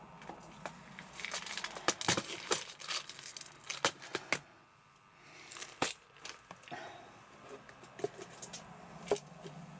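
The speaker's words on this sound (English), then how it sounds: "Plastic bags, not me elastic bag." Plastic bags crinkle and rustle close by in bursts of sharp, crackly handling noise, stopping and starting irregularly among quieter moments.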